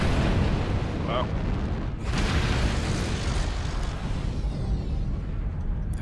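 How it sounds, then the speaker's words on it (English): Airstrike explosions rumble in a mech combat video game, a dense continuous roar of blasts and booms with a sharp burst about two seconds in, while a voice briefly exclaims over it. "Airstrike online."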